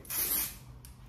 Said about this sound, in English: You can also put your head upside down, spray it.